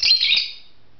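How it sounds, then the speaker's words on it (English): A pet bird gives one bright, short chirp close by that fades out within half a second, with no talking. "I apologize for the bird in the background. He loves to chirp."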